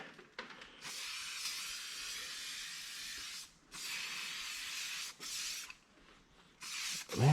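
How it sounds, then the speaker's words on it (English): Slick Shine protectant sprays onto a car door jamb in repeated hissing bursts, several sustained sprays with brief pauses between them, close and fairly quiet, with no voices. "I'm just gonna keep spraying and cleaning"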